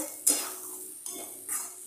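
Spices frying in a pan while being stirred for a Bengali-style rui fish dish: a soft sizzle broken by three scraping, clinking stirs of a utensil against the pan, close and clear.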